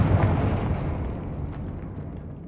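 A Confringo fire spell explodes in Hogwarts Legacy, heard as a loud, deep, rumbling blast that starts at full strength and slowly fades over a couple of seconds.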